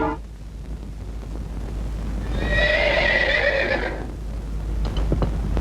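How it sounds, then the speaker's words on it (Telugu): Horses waiting to be fed let out a loud whinny in the middle, with a muffled rumble and stamping around it and no talk. "మాకు కాస్త దానా వేయండి అని గుర్రాలు పిలుస్తున్నాయి"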